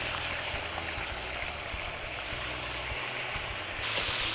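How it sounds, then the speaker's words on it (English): Dungeness crab quick-fried in a hot wok gives a steady, loud, hissing sizzle throughout, with faint background rumble. "Do a quick fry like this."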